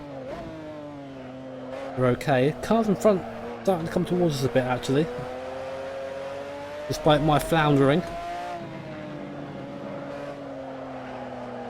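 An F1 GTR race car engine in Assetto Corsa drones steadily at high revs, with bursts of loud gear-change and throttle rasps breaking through while someone talks over it.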